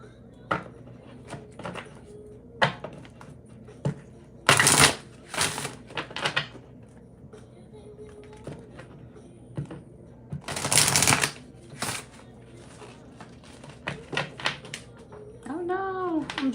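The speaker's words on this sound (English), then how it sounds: "No, I'm dropping cards." Playing cards dropped and shuffled onto a surface in a tarot reading, with several loud bursts of riffling and slaps amid scattered light card clicks, alone.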